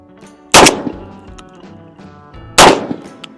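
Two loud, sharp shotgun blasts from a Mossberg 990 firing Winchester Super X double-aught buckshot, about two seconds apart, each with a quick decaying tail and faint metallic clatter between them.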